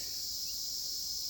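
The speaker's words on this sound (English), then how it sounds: "hum of birds and bugs and bees." Insects chirp steadily in a forest, a continuous high buzzing drone that holds level the whole time with no voices over it.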